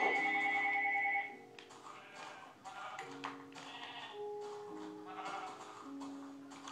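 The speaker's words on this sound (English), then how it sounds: "Sheep." Minecraft sheep bleat with wavering, tonal cries. A pitched electronic tone opens, then several bleats follow over a stretch of game sounds at moderate volume.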